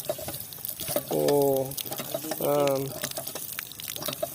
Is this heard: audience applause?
no